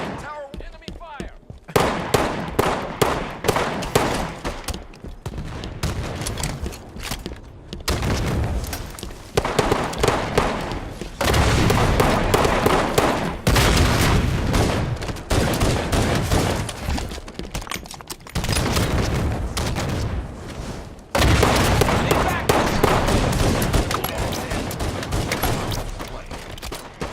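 Rapid bursts of video-game gunfire rake a tower in rattling volleys, loud and close, broken by brief gaps, with a voice announcing alerts over the shooting.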